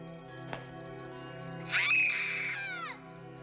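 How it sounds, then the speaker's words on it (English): A girl screams from a bad dream, a shrill wavering cry that rises suddenly, holds about a second and fades. It sounds muffled and distant over a quiet hum, after a single faint click. "Whenever she has a bad dream, she screams to wake herself up."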